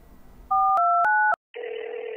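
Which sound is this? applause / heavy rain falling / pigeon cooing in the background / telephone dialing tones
telephone dialing tones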